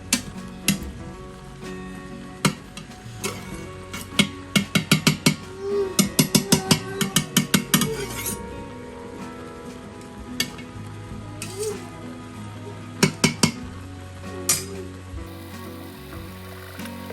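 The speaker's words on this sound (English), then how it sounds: "Now I'm giving them a good stir." Mushrooms and onions sauté in an Instant Pot while a utensil stirs them, giving loud, close scraping strokes in quick bursts over a steady sizzle, with pauses between rounds of stirring.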